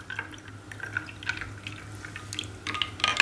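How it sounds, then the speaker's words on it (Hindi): Plain cold water trickles and drips into a glass for a raw mango sharbat, with faint, close splashes and pattering drops against a quiet background. "सादा सिंपल वाला ठंडा पानी लेना है, वो आपने इसमें ऐड कर देना है"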